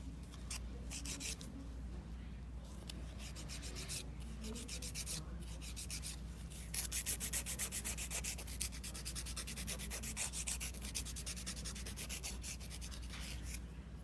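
A carbide nail drill bit files down nails during a dip-powder manicure with tip extensions, giving a steady close grinding rub that runs unbroken for about fourteen seconds over a low constant motor hum.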